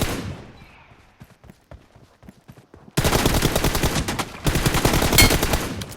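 Rapid bursts of automatic gunfire in the mobile battle-royale game PUBG Mobile, loud and dense in the second half after a quieter stretch of scattered shots, with no talking.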